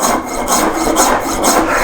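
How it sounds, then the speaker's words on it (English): Hand rasp strokes rub across the side grain of a carved wooden Hepworth-style sculpture, loud and close, in a steady back-and-forth rhythm of about four or five scraping passes. "It's much easier to rasp on the side like this."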